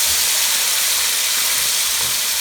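Tomatoes, five of them, fry in hot oil in a pan with red chilli for a mixed vegetable dish, giving a steady, continuous hiss and sizzle throughout with no talk over it.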